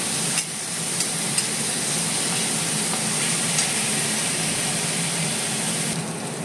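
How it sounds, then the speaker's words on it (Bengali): Onions frying in oil in a pan, a steady close hiss of sizzling that holds evenly throughout, with a few faint clicks and no talking. "দেখো পেঁয়াজটা আমার ভাজা হয়ে গেছে, ভালোভাবে ভাজা হয়ে গেছে।"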